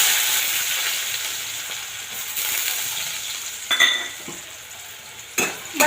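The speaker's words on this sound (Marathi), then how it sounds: "तेल चांगलं गरम झाले की आपण बटाटा परतून घेणार आहोत." Potatoes fry in very hot oil over a high flame with a loud, continuous sizzle. A few sharp scrapes and clinks of a spoon against the pan break through near the end as they are stirred.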